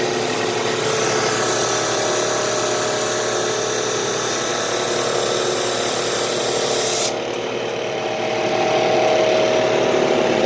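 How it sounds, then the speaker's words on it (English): Grizzly G0459 drum sander grinding steadily through wood at a very slow feed rate, a loud continuous power-tool roar with a rasping sanding texture; the high hiss drops away abruptly near the end while the motor keeps running. "I'm gonna slow it down to a snail's pace"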